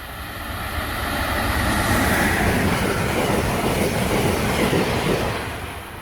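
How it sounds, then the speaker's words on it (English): An Amtrak Keystone passenger train bound for Harrisburg rushes past, a broad roar of wheels and rails that swells to a loud peak and then fades, with no voices. "A Keystone train heads for Harrisburg."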